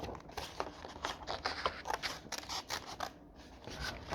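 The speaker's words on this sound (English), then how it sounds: "to cut a hole in the section that you want to cut away" Small scissors snip repeatedly through folded paper to cut out a letter stencil, a close, quiet series of crisp cuts and rustles with no talking.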